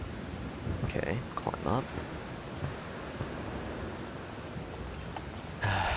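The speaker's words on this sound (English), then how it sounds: "Just quiet rain." Quiet, steady rain falls in the horror video game Siren, a continuous soft hiss with scattered drips, while someone briefly speaks over it near the start.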